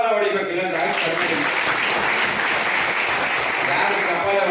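An audience at a Paurakarmika Day event for civic workers, held at the KGF City Municipal Council, claps loudly and steadily for several seconds, with voices mixed in under the applause.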